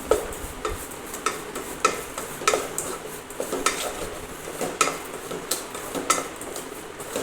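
A spoon stirs a flour and sugar mixture in a pan over low heat, making a steady series of light scrapes and clinks against the metal. The taps are close and fairly regular, with no voices.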